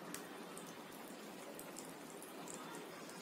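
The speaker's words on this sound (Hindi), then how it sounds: "तो चलिए आप इनको फ्राई कर लेते हैं, ये हमारे डायमंड और चांदनी कबाब" Paneer kababs, diamond and chaandni style, shallow-frying in oil in a pan over high flame, giving a steady, fine crackling sizzle like light rain that runs evenly throughout with no voices.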